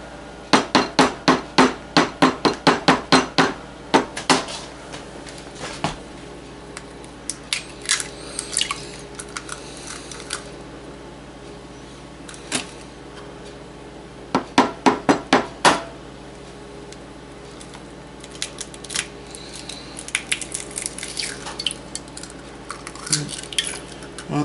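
Four eggs are cracked against a bowl while baked corn is being made, giving sharp rapid taps in quick bursts, close and loud, with pauses and softer knocks in between.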